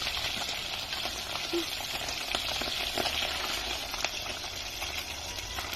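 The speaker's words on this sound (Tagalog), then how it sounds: "Piprituhin ko po muna." Fish frying in oil in a pan: a steady, close sizzle with scattered small pops and crackles throughout.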